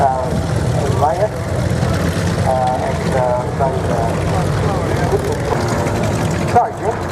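A Robinson R22 two-seat helicopter with a Lycoming 360 engine flies at the Tyabb air show in Australia, its rotor and engine drone steady and fairly close beneath continuous commentary.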